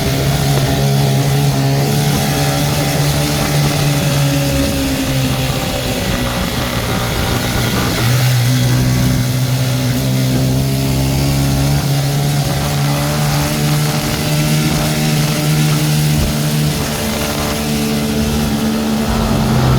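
A motorcycle taxi (ojek) carrying two large hiking backpacks climbs a steep, bumpy road down from Mount Sindoro, its mid-pitched engine droning steadily and loudly throughout, with shifting revs as it labours uphill.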